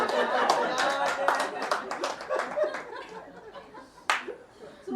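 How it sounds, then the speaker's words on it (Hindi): An audience at a Hindi comic poetry gathering breaks into a burst of clapping mixed with laughter and chatter, loud at first and thinning out, with one sharp slap near the end. "मेरे सम्मान में ताली बजा दो आपको।"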